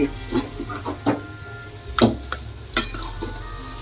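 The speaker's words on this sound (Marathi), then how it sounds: "आता परतून घेते" Utensils clink against a pan while eggplant is sautéed for Marathi-style bharit, giving about five sharp, separate metallic taps spread evenly over a low, steady background hum.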